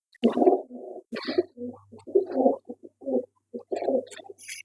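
Pigeons coo nearby in a steady series of low, throaty, bubbling calls, with soft rustling and occasional higher chirps in the background.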